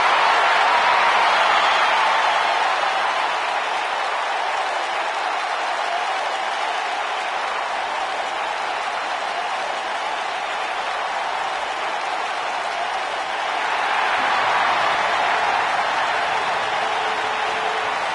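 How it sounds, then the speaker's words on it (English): A wrestling arena crowd applauds Chris Jericho's arrival with a steady, dense wash of clapping and cheering that swells again near the end. "Get on your feet and applaud over there, Sexton."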